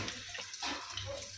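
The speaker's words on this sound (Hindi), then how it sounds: "अब हम अपना चिकन ऑयल में शामिल कर देंगे," Raw chicken pieces go into hot oil for a masala biryani, giving a brief, steady, broad sizzling hiss close by with no voices over it.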